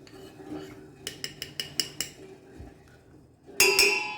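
Custard powder mixed into cold milk is stirred in a bowl, giving a close, rhythmic series of spoon clinks against the bowl's side and then one sharper, louder clatter.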